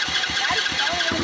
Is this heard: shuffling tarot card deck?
no